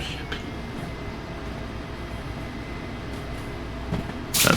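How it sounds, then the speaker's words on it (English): A DE6 diesel-electric locomotive's traction motor strains hard while pushing a heavy string of cars in the Derail Valley train simulator, giving a steady low rumbling drone with a sudden louder burst near the end. "that sound is just the traction motor"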